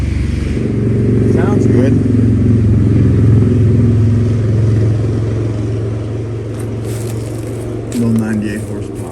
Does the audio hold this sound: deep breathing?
no